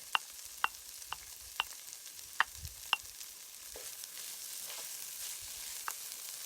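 Three cloves of chopped garlic fry in a pan for a vegan sausage and potato hash. Sharp utensil clicks and taps come first, then a soft, steady sizzle continues alone at low volume.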